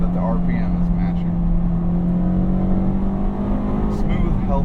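Car engine in a manual-transmission car, blipped and held steady during a rev-matched downshift from fourth to third gear, a continuous near drone without distinct peaks.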